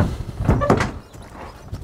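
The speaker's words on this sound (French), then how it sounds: "on ouvre la porte" The door of a horse van is opened, giving a couple of quick, close clunks and a rattling latch sound, followed by quieter handling noise.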